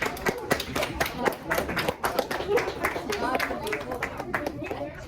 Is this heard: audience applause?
yes